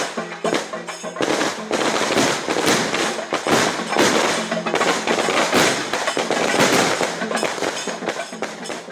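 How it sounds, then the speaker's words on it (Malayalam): A long string of firecrackers goes off in a hospital compound beside the emergency department, a loud, rapid crackle of dense bangs and thumps that rolls on without pause. "ആശുപത്രി കോമ്പൗണ്ടിൽ അത്യാഹിത വിഭാഗത്തോട് ചേർന്നായിരുന്നു പടക്കം പൊട്ടിച്ചത്"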